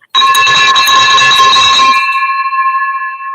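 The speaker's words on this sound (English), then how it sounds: "Let me ring this bell real quick." A bright electric bell rings loudly and continuously for about two seconds, then its metallic tone hangs and fades slowly.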